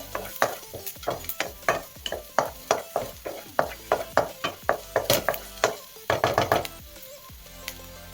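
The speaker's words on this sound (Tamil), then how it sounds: "வெங்காயம் பாருங்க நல்லா வதங்கி வந்துட்டு இருக்கு." Onions sautéing in a pan for a homemade Indian vegetable soup, with a steady sizzle under a run of loud, rhythmic spoon-stirring scrapes and knocks repeating about every half second.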